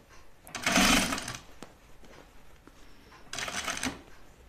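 A sewing machine stitching a duffle coat seam runs in two short bursts of rapid whirring chatter with a quiet pause between them, heard up close.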